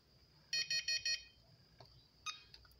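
Four quick high-pitched electronic beeps in a row from a VTech cordless desk phone, followed by a couple of softer single beeps, faint and close in a quiet room.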